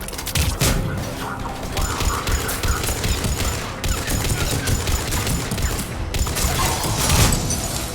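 Sustained gunfire at a checkpoint in the Mass Effect video game, dense bursts of automatic shots and impacts rattling continuously, loud and close, with mechanical clanks mixed in.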